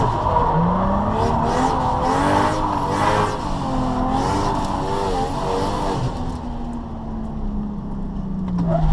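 Toyota Supra drifting and spinning out, loud engine revving in waves with rising and falling pitch while tires squeal, the roar easing briefly near the end before building again.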